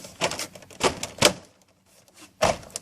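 A few sharp plastic clicks and snaps come close by in quick succession, then a short pause and one more click.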